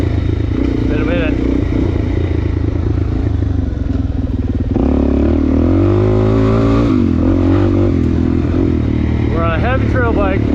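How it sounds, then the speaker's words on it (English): A heavy Suzuki DR-Z400 trail motorcycle rides along single track, its engine close and loud with repeated throttle revs rising and falling, plus some clattering. A voice is heard talking over it. "We're on a heavy trail bike, on some single track."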